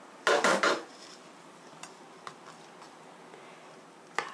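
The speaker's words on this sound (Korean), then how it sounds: "이제 버섯을 썰어 보겠습니다. 버섯은 밑부분 자르시고요." A knife slices mushrooms with their stems trimmed on a cutting board: three quick, loud chops close together near the start, then a few faint taps spaced out in a quiet kitchen.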